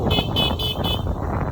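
A vehicle horn sounds in several short, bright toots over the first second on a hill road near Bandarban as the vehicle approaches, set against a steady, rumbling background.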